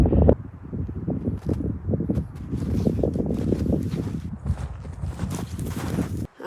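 Blustery winter wind buffets the microphone at an exposed mountain lookout in Killarney, a steady rushing roar with gusty surges throughout, loud and close.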